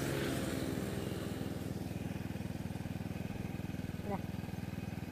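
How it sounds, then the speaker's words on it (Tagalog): A motorcycle engine idles nearby with a steady, even putter throughout, with a brief rev-like rise near the end, on an evening stop in Lagonoy, Camarines Sur. "So yan yung motor natin."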